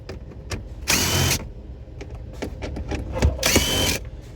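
A power tool spins bolts loose from the radio bezel of a 2017 Chevy Equinox, two sharp whirring bursts close by with clicks and handling clatter between them.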